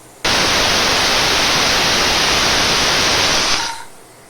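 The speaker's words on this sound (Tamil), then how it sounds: "தண்ணி ஊற்றாமல் நல்லா திக்காக நம்ம துவையல் மாதிரி அரைச்சி எடுத்துக்கிறோம்." A kitchen mixer grinder blending a thick chutney with no water added, a loud, steady, harsh whir that starts abruptly, holds constant for about three seconds, then winds down and stops.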